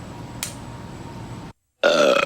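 A single loud, raspy burp follows a brief silent gap after a kombucha bottle is opened, sitting close to the microphone after a quiet stretch of room noise.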